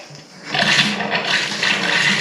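Water turned on and rushing through newly fitted bath plumbing with the waste connected under the bath, a steady loud hiss that swells after a brief quieter start and keeps running without pause.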